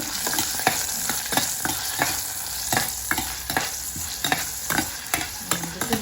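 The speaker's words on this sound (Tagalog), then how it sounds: "Gisa muna natin yung bawang." Garlic and onion sautéing in a pan for ginisang sardinas, a steady sizzle broken by frequent sharp scrapes and clacks of a stirring utensil, close and fairly loud with no talking.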